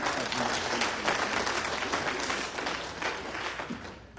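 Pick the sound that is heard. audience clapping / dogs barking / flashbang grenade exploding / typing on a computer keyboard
audience clapping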